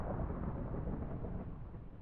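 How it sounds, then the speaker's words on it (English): A thunderstorm in the Minecraft ATM9 modpack rumbles as a steady, dense roar of rain and low thunder, loud and continuous throughout, with no talk over it. "Oh my god, that storm is so loud."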